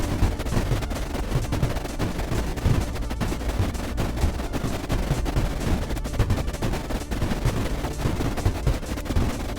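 A Boomzine detonates in the video game Creeper World IXE, producing a dense, continuous roar of overlapping blasts and crackling rumble that stays loud for the whole stretch.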